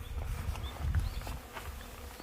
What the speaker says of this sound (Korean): 이동 말벌이 들어오면 이런 문제가 생겨요. 이렇게 끊임없이 대군이 와서 괴롭히는데